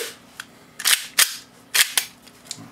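A Glock 17 pistol fitted with a new slide is dry fired and racked by hand, producing several crisp metallic clicks and snaps in close succession, near and distinct with no talk.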